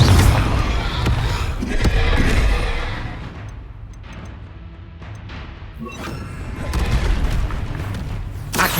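A Confringo explosive spell goes off in Hogwarts Legacy, a heavy booming blast with crashing debris that fades into quieter game ambience before further impacts rumble at the end.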